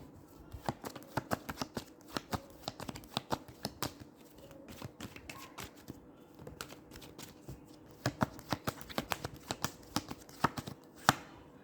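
Tarot cards shuffled by hand, a soft irregular flutter of crisp riffles and taps, close and quiet, continuing with no speech.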